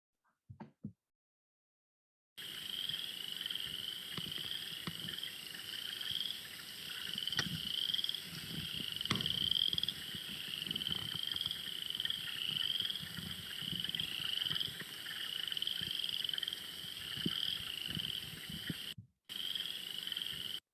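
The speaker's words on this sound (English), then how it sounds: "You guys could hear some frogs calling and give you a little bit of spring fever." Frogs calling in a wetland form a continuous, dense chorus of high trilling and croaking that carries on for many seconds at moderate distance, with no voices.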